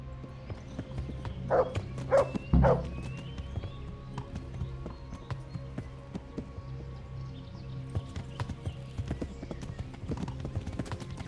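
Several horses ridden as a group in the video game Kingdom Come: Deliverance clip-clop along steadily, with a few louder snorts or calls early on and hoofbeats continuing throughout at moderate volume.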